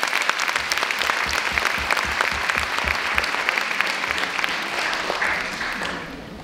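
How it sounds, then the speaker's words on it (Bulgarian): An audience at a Christmas celebration applauds a carol-singing group from a folk song and dance ensemble, steady and fairly loud with rhythmic low thumps underneath, tapering off at the end. "Моля силни аплодисменти за тях!"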